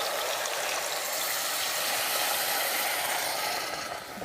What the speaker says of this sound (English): I'm going to take about 3 to 4 cups of water right here. And I'm just going to pour it in.